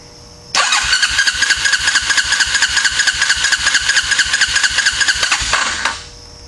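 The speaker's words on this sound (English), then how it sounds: "Now we're going to turn this motor over." The engine of a Suzuki Ozark ATV is cranked over for a compression test. A loud, close, rapid rhythmic churning runs steadily for about five seconds and then cuts off, and no one speaks.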